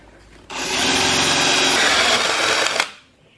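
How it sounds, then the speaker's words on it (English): A power drill bores loudly into a butcher block countertop for a faucet hole, a little over two seconds, starting abruptly and winding down at the end. "So we're ready to drill our hole for our faucet."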